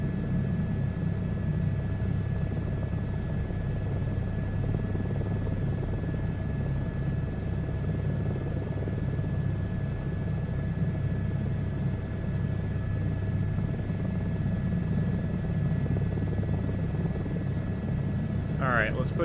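A helicopter in a VR flight simulation game drones continuously with a loud, steady rotor and engine rumble, unchanging for the full stretch, as someone talks over it.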